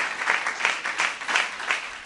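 Studio audience applauding the judges of a music show, a pulsing swell of clapping that rises and falls in several waves over a short stretch.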